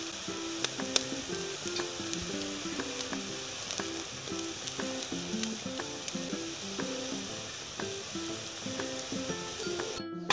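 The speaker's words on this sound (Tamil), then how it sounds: "இது ஒரு 2 ஸ்பூன் நெய்யை வந்து அதை சேர்த்துக்கிறோம்" Steady crackling sizzle of two spoons of ghee in a hot pan for ghee rice, continuous and fairly close, with faint tonal background music underneath.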